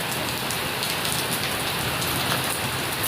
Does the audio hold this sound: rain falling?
yes